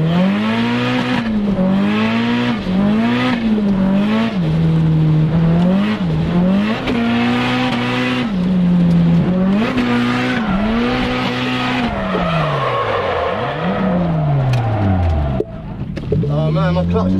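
Nissan S15 drift car engine revving hard with a slipping clutch, its pitch swinging up and down in repeated loud, close surges that continue steadily before easing off near the end.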